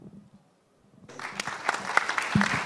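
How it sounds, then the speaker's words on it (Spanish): After a brief quiet gap, applause erupts from the audience closing the last talk of a real estate development and investment congress in Paraguay, quickly building into a full burst of clapping. "Fuerte el aplauso para el cierre de la última charla del 26º Congreso de Desarrollos e Inversiones Inmobiliarias."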